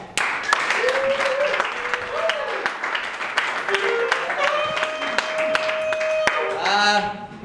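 A comedy club audience applauds with steady, dense clapping that carries on for several seconds while a voice speaks over it.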